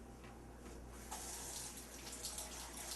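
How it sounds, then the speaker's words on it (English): Water runs steadily from a tap into a sink during handwashing, a close, continuous splashing hiss that gets slightly louder and brighter partway through. "Bone Man, you should probably wash your hands too"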